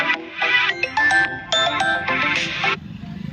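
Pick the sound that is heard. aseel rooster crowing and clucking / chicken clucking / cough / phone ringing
phone ringing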